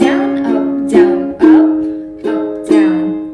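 Acoustic guitar strummed in a slow down-down-up pattern for a song, chords ringing close and clear, with about six strokes and no voice.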